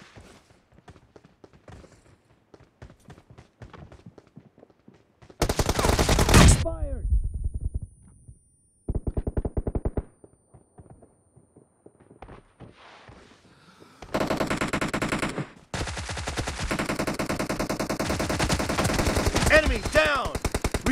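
Automatic weapon fire in the mobile battle royale game PUBG Mobile, with loud rapid bursts of shots separated by quieter stretches, under voiced game callouts.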